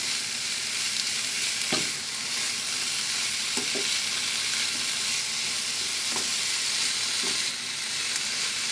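Potatoes frying in a pan for a veggie frittata sizzle steadily and densely, broken by a few soft knocks and scrapes as they are mixed, close and alone.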